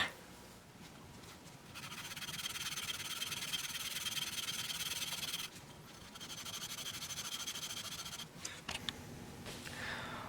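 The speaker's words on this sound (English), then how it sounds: "so I'll need to do a little sanding" Continuous close-up sanding of a guitar 12th-fret inlay, a rough steady scratching rasp that pauses briefly midway and near the end before resuming.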